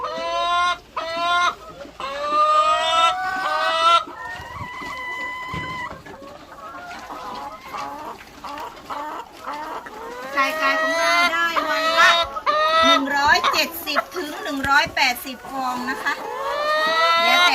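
Chickens on a small Thai farm clucking and squawking busily while eggs are collected from the coop, loud and close with overlapping calls and someone talking throughout.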